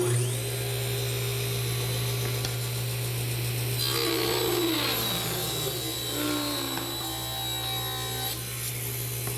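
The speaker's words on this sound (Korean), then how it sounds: "폭을 줄이려고 할 때는 목재의 긴 면을 조기대에 대고 밀면서 잘라줍니다" A table saw rips a long board fed along its fence, the motor holding a steady high whine before the blade bites in for several seconds of rough cutting, then returns to a free-spinning hum.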